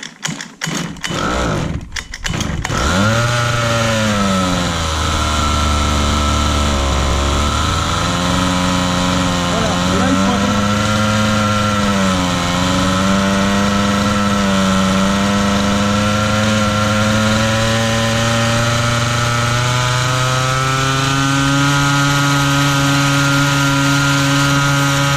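The petrol engine of a 1/5 scale RC buggy starts with a few sharp pulls, then settles into a loud, close, steady buzzing run whose pitch rises and falls with the throttle.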